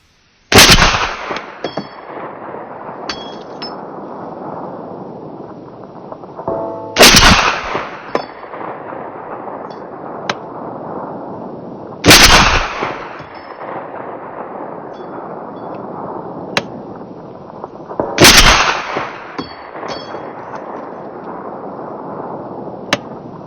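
Four loud, sharp rifle shots from an IWI Tavor 7 .308 bullpup ring out at a range several seconds apart, each followed by a long rolling echo and quieter metallic clinks between.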